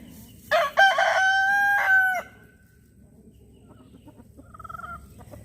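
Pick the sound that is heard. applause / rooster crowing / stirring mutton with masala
rooster crowing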